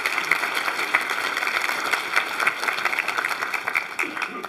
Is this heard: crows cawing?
no